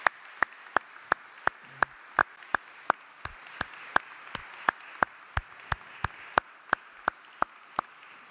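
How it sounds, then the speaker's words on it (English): A final round of applause for award recipients at a pharmacy school scholarship and awards ceremony comes through as a steady run of single, evenly spaced claps, about two per second. "I'd really just like to have everybody join me in a final round of applause and a congratulations to all of the award"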